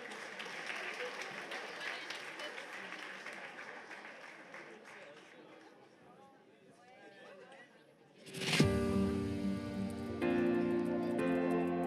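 A pageant audience applauds a presenter at the Miss New Caledonia 2020 show, a broad wash of clapping with a voice over it, thinning out before music comes in loudly.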